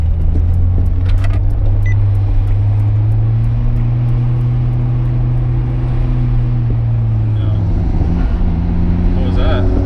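A Nissan R32 GTR engine, running lean, rumbles loudly and steadily up close with a strong low drone that shifts pitch near the end, as if pulling away.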